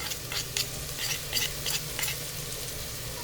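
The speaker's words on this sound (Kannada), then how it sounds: "ಈಗ ಟೊಮೊಟೊ ಹಣ್ಣು ಬೇಯ್ತಾ ಇದೆ." Tomatoes frying in a pan with turmeric, chili powder and coriander powder, a steady close sizzle with a few louder stirring scrapes spaced through it.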